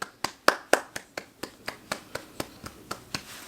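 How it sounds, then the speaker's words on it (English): A single person claps their hands in a steady, evenly spaced rhythm, about fourteen sharp claps, fairly close and clear with no talking. "Let's give her a round of applause, shall we?"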